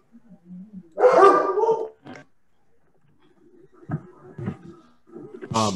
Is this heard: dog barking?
yes